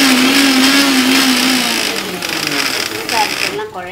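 A mixer grinder whirs steadily as it grinds spices for Srirangam-style coriander powder, its motor whine fading and wavering near the end while a person talks over it.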